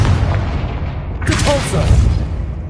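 Confringo explosion spell cast in Hogwarts Legacy gameplay: a sudden bright blast about midway that rings out over a steady low rumble of game ambience, with some vocal-like sound layered in.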